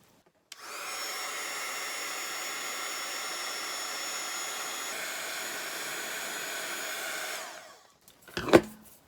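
A hair dryer blows steadily on a primitive cloth sunflower craft, a loud even whoosh starting abruptly and running about seven seconds before cutting off, followed by a brief clatter.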